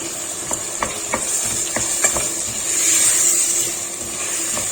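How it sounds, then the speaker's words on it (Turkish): Vegetables and lentils sizzle in a hot pot while a spoon stirs and scrapes with scattered clicks, steady and close. "Bunu birazcık kavuruyorum."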